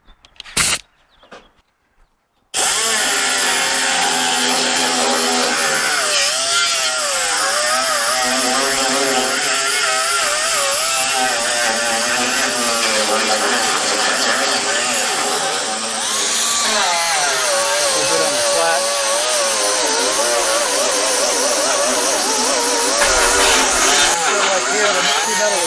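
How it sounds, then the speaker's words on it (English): A flap wheel on a high-speed power grinder strips paint from the front scuttle of a 1955 Triumph TR2, a loud, continuous abrasive whine that wavers in pitch as pressure changes, following a few brief knocks. "the flap wheel will tend to grind that away"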